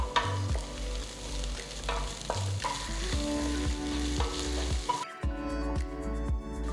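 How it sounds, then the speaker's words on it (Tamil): Onions sautéing in hot oil with ginger garlic paste, chopped green chili and curry leaves for squid masala, giving a steady close sizzle broken by scraping spatula stirs, with the fry noise thinning near the end. "அப்புறம் 1 பச்சை மிளகாய் நறுக்கினது, கொஞ்சமாக கருவேப்பிலை சேர்த்து வதக்குங்க."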